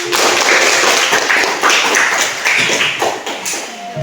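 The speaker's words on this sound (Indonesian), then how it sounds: "Kasih tepuk tangan untuk kita semua" A classroom of students clap their hands together at the teacher's request, a loud, dense burst of close clapping that runs steadily for about four seconds with no talk over it.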